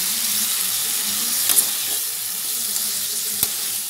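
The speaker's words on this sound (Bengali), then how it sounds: "এবার আমরা এতে দিয়ে দেব এই কুকুম্বার মানে শশা, কুচানো শশাগুলো দিয়ে এটাকে এবার ভালো করে আমাদের কষাতে হবে।" Chopped cucumber sautéing in a spice masala for a paneer cucumber jhura, giving a steady, soft sizzle with a couple of brief stirring clatters, close and even throughout, with no talking.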